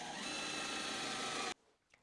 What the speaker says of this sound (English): I'm just going to put a couple of long screws in there to hold it up.